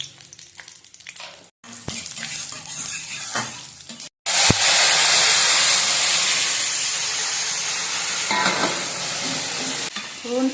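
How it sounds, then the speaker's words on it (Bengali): Radhuni seeds tempering in hot oil along with bay leaf and dry red chilli for Bengali shukto, a loud steady sizzle and hiss after a burst of stirring, close to the pan with no voice. "তেল গরম হয়ে গেছে, এবার রাঁধুনি দেবো ফোড়নে।"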